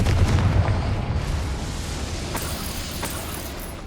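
A Confringo fire spell blast in Hogwarts Legacy, a loud, booming, broadband explosion that hits at once and then rumbles and fades steadily over a few seconds with no voices.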